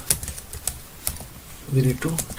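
Clicky computer keyboard keys tap in scattered bursts, close and crisp, while someone speaks over them near the end.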